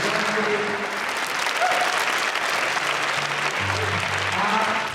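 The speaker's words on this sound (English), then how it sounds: "So can we give a big round of applause to Claire and the dog and the mouse" Sustained applause from an audience at a school performing arts show, steady and fairly loud throughout, with a few voices and cheers breaking through the clapping.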